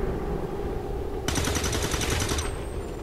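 Rapid automatic gunfire from the video game General's Chosen War, a loud sustained burst of shots that starts abruptly midway and cuts off before the end, over steady game background noise.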